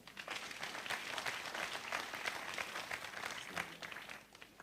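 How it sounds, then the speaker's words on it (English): Mourners at a memorial service celebrating a late politician in Nyeri give a warm round of applause, dense steady clapping of a sizable crowd that carries through nearly five seconds before tapering. "please give them a big clap"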